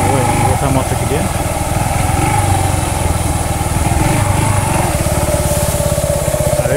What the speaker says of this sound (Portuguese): Vou chegar, vou botar a moto aqui dentro.